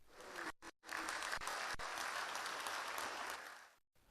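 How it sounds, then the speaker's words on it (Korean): Enthusiastic applause from forum participants at a formal gathering, a dense sustained clapping that breaks off briefly at the start, swells, holds steady for about three seconds and then stops. "참가자들의 열광적인 박수 속에"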